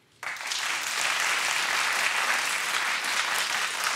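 Studio audience on a daytime talk show bursts into loud, dense clapping that starts abruptly and holds steady and full, with no voices over it.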